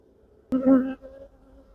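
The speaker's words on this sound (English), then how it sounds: "I'm just going to have a quick look and see if bees can make it in and out of this queen excluder." Honeybees buzzing at a beehive queen excluder, a short close burst of droning lasting about half a second that then trails off into a fainter hum.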